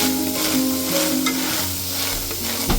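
Garlic cloves and ginger pieces roast in a covered pan, producing a continuous close sizzle with a few soft stirring clicks and some faint background music.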